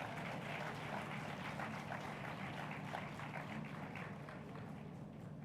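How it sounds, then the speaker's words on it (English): Audience applause at a Royal Holloway graduation ceremony: a dense, continuous wash of clapping from a large crowd that stays level for several seconds. "I think we'll give them a round of applause for that."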